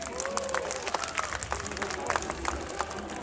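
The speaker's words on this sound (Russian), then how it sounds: "Ольга, и аплодисменты Ольге." Audience applause rings out at a city-day dance contest, a steady wash of clapping from the crowd lasting a few seconds at a fairly even level.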